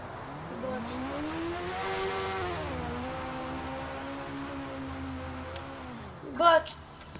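Motorbike riding in a Roblox video game, an engine whine that climbs, dips and climbs again in pitch, with a brief sharp sound near the end.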